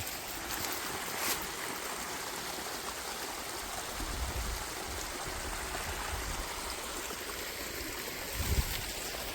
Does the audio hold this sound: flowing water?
yes